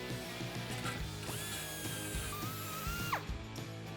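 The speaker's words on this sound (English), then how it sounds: "We're gonna go ahead and clean that up with the sanding pad on the die grinder." A die grinder with a sanding pad whines steadily with shifting pitch as it grinds against metal on a 2015-2020 Mustang GT exhaust, continuous and close, with no voices.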